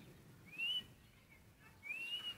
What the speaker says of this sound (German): Dreh dich mal um mit dem Gesicht zu ihm und jetzt pfeif.